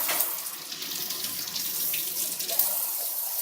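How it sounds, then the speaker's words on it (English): Water from a faucet runs steadily into a sink as a surgical tech rinses the arms, a close, continuous hiss with slight splashing changes. "And so now we're going to rinse."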